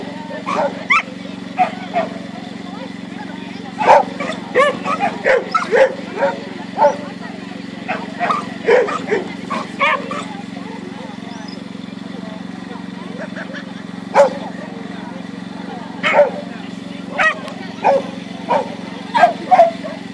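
Dogs barking at a dog agility show, repeated sharp barks scattered irregularly over a constant low hum, moderately near, with a public address announcer's voice at times.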